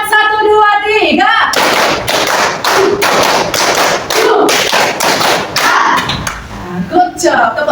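A rapid run of rhythmic hand claps for a 'tepuk semangat' ice breaker in a classroom, a dense series of sharp slaps bracketed by chanting voices, loud and close.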